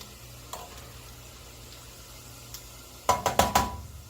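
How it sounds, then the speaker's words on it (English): Tortilla chips fry in hot oil with a low, steady sizzle, then a quick cluster of sharp clattering knocks near the end, as if the chips are stirred or moved in the pan. "I'm not gonna bore you by watching me fry chippies."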